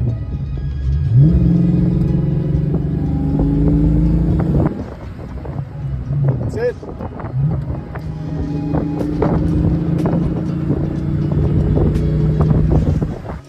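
A car with a manual transmission drives along a quiet, empty road, its engine droning loudly and rising in pitch through the gears, with a brief dip between shifts and wind noise over the microphone.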